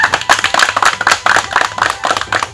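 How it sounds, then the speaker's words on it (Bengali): Several people clapping their hands for Madhu at a village street show, producing a quick, steady run of sharp claps at close range that continues without pause and has no talking over it. "তার আগে আমাকে মধুর জন্য একটা হাতে তালি দেন তো"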